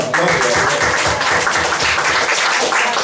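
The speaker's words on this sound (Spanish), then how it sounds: "Dale palmas al Señor" A church congregation claps together during a service in praise, a loud, dense wash of many hands with a rough rhythmic pulse and murmured voices mixed in.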